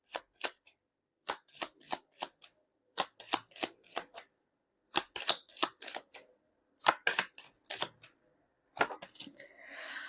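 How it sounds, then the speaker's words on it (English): Tarot cards being shuffled and drawn during a pick-a-card reading: close, crisp bursts of riffling and flicking paper in irregular clusters with short pauses between them, no voices. "So we're going to be pulling up 4 cards."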